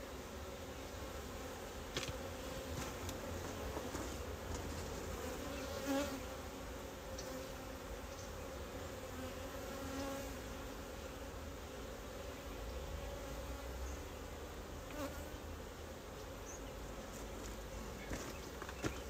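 Honey bees buzzing around an open hive during a winter inspection, a dense, steady hum of many insects close by that carries on without a break and with no talking.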